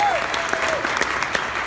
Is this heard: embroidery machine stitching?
no